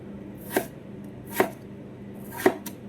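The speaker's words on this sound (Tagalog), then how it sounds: "so karon mag-slice na ta sa atong mga patatas" A knife slicing potatoes for french fries, three crisp, separate cuts landing on a board at an uneven pace, close and fairly quiet, with no talk.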